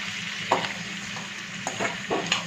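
Marinated chicken for chilli chicken stirred in a hot pan with soy sauce, a steady sizzle broken by a few short utensil scrapes and knocks, close by and without talk.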